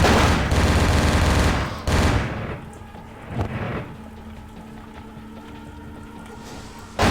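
In the video game Vampire the Masquerade Bloodlines, a freshly found gun fires a loud, dense burst of rapid shots for about two seconds. A few fainter shots and a softer crackling tail follow.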